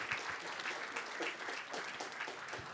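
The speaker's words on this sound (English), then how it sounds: "Once again, a big round of applause." Applause from a conference audience after a panel discussion on migrant workers' health, dense continuous clapping heard from a distance, steady and fairly faint, without talk.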